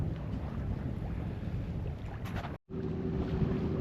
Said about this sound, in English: It's a nice day to be out sailing. There's just enough wind.